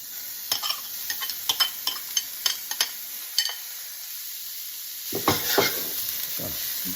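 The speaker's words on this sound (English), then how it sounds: "in's going our peppers and onions" Peppers and onions sauté in shimmering olive oil in a skillet, a steady close sizzle broken by several scraping stirs, with the frying swelling louder near the end.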